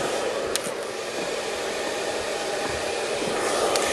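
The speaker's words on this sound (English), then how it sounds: "These Parlex dryers come with a silencer." A Parlux hair dryer fitted with a silencer runs close and steady in a hair salon, a loud continuous airy whoosh with a couple of brief clicks.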